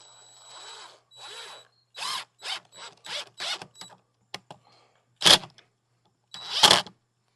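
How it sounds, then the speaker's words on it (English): A power drill drives a single screw into a bird feeder mount, heard as several short, loud, whirring bursts with sharp gaps between them, close by and quiet in between, with no talking. "So I'm going to put one screw in it just like that."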